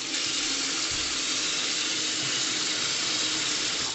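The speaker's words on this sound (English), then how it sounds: "So I have hot and cold running water, and it all runs through here without leaking" Hot and cold water runs from taps into a custom-built utility room sink, a steady close hiss of flowing water that stays even throughout with no voices.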